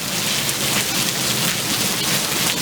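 Hail and rain falling together during a brief monsoon thunderstorm in 2022, a steady dense hiss of drops striking the ground and grass that stays loud and even throughout with no talking.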